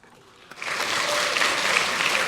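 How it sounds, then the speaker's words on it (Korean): Applause from lawmakers on the People Power Party benches in the National Assembly chamber swells after a quiet start and holds as steady, dense clapping, loud and continuous with no speech over it. "박수갈채는 국민의힘 의원석에서 나오고 있습니다."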